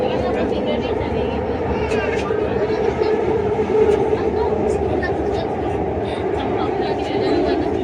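An LRT train on the Ampang Line in Kuala Lumpur runs with a steady rumbling hum, faint track clatter and occasional higher squeals, while voices are heard now and then over the ride noise.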